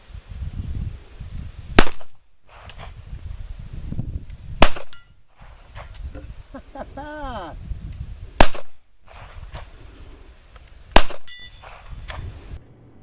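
Ruger LCP Max pistol fired outdoors at a 25-yard range: four sharp, loud gunshots spaced a few seconds apart, each a sudden crack with a brief ringing tail over faint outdoor background.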